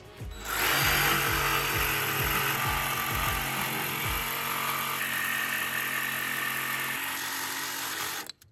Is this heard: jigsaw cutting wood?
yes